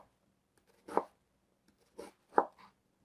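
Knife chopping a small amount of red onion, three or four separate soft thuds spaced about a second apart, close and quiet in an otherwise still kitchen.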